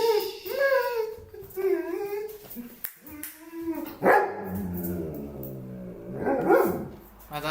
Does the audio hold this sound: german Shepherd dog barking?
yes